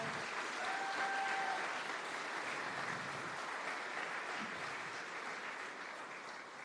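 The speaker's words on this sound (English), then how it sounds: "can we have a round of applause for Joanne Armstrong?" An audience applauds steadily, a soft wash of many hands clapping at a distance, tapering slightly toward the end.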